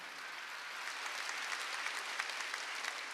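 A church congregation clapping during a Wednesday worship service, soft and distant, a continuous patter with a few sharper claps poking through and no voice over it.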